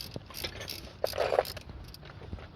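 A ratchet wrench loosens a bolt on a Toyota Sienna engine, giving a short, fairly faint burst of clicking mechanical turning in the middle, with quieter scraping and handling around it.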